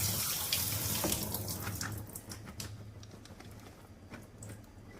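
Fresh green beans rinsed under a running kitchen tap, a steady hiss of water splashing into a sink with faint drips and clatter, fairly quiet and easing off toward the end.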